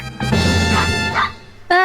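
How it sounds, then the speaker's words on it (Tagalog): A dog gives a couple of short, close, loud barks and yips, one near the start and another near the end, with no talking. "Kaya pala Bond pangalan ng aso natin."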